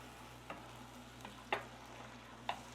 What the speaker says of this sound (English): Let that boil.